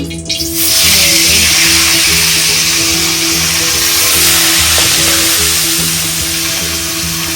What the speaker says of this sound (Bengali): দাদি হচ্ছে এখন মাছগুলো ভাজবে